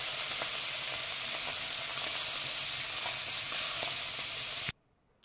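Small parshe fish fry in very hot mustard oil in a kadai, giving a loud, steady, close sizzle with faint crackles that runs nearly five seconds before cutting abruptly to silence.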